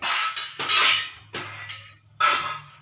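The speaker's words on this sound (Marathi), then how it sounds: "भांडी लावायचं काम चालू आहे" Dishes are put away in a home kitchen at around six in the morning: three loud, close bursts of clattering steel utensils and clinks, separated by brief pauses, with no voices.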